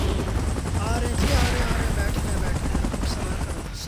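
A helicopter in a Godzilla video game churns through a dense, rapid rumble mixed with gunfire-like bursts. The sound is loud and continuous throughout.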